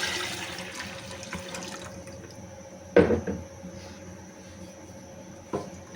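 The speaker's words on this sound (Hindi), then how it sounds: "अब हम इसमें ये दही और बेसन जो है वो डाल देंगे" A yogurt and gram flour mixture is poured into a pot of spiced kadhi curry, giving a quiet wet splashing pour that fades after about two seconds. A sharper clatter of liquid and pot follows, then a smaller knock.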